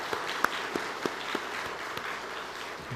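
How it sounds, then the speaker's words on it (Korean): A church congregation gives welcoming applause, soft, even clapping from a roomful of people, with a few sharper individual claps standing out above the steady murmur. "우리 환영의 박수를 한번 보내드리겠습니다."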